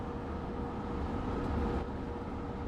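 ALP-45DP locomotive of New Jersey Transit in Train Sim World 6, built by Bombardier, coasting on a level grade; a steady, moderate rumble and mechanical hum continues evenly with no breaks.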